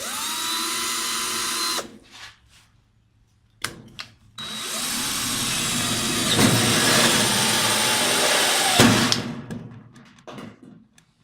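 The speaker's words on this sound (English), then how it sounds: "we're going to use a 20mm hole saw to drill a hole in here" A 20mm hole saw on a power drill cuts through a light fitting during a fluorescent-to-LED conversion: a loud, steady whining drone in two long bursts separated by short pauses, with no talking.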